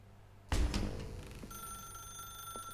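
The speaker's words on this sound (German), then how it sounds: "Now pick up the phone." An old-style telephone bell rings loudly in The Stanley Parable: Ultra Deluxe, bursting in suddenly and then settling into a steady, sustained electronic ring with no talk over it.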